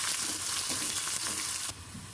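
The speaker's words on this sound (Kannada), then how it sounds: "ಈಗ ತಕ್ಷಣ ಈರುಳ್ಳಿ ಹಾಕ್ಕೊಳ್ತಾ ಇದ್ದೀನಿ." Onion fries in a pan with kasuri methi and fennel seeds, a close, steady sizzle and crackle of hot oil with faint stirring, dropping suddenly to a quieter hiss near the end.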